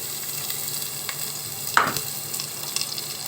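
Ginger and onion sauté in a hot pan for a fish dish, a steady soft sizzle with one brief louder hiss and clatter as the pan is stirred, no voices.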